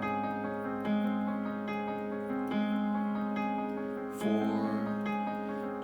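Piano plays the intro lick for Joy to the World (Joyful Joyful): sustained, ringing chords and melody notes moving in a steady pattern, moderately quiet, with no voices.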